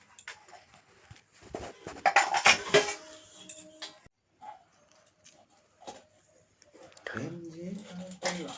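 Steel plates and spoons clink and scrape while rice is dished out at home, coming as short clattering bursts between quiet stretches, with voices talking nearby.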